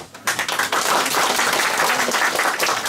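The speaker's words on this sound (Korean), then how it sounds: "박수 한번" Villagers at a community gathering in a Korean village break into applause, starting after a short quiet moment and then sustaining a loud, close, dense clapping to the end.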